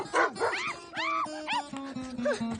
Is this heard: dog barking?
yes